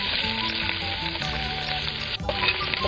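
Lamb sizzling and frying in plenty of olive oil, a loud continuous crackle and hiss that carries on steadily throughout with no talking.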